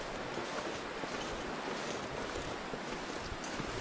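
Steady, fairly quiet wind blows in the survival video game The Long Dark, a continuous broadband rush with no other sounds or voices.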